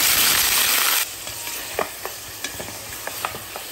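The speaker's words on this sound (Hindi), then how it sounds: "गोश्त को अच्छे से भूनते जाइए" Half a kilo of mutton frying over high flame in hot oil with whole spices and black pepper: a loud hiss at first, then a softer sizzle with spaced stirring clanks, no talk.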